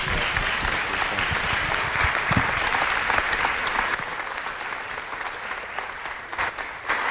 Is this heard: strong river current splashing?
no